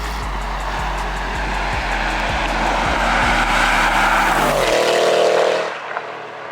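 A 2021 Audi RS6 with downpipes, full exhaust and a Stage 2 tune accelerates hard, its loud, rough engine roar climbing steadily with pulsing low rumble before dropping off abruptly near the end, close and alone with no talk.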